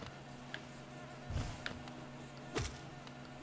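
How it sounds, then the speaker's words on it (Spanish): Insect-like buzzing from a bee enemy in the video game Hollow Knight, a faint, steady drone with a few louder swells and short bursts around it. "¡Ay! La abeja de las narices."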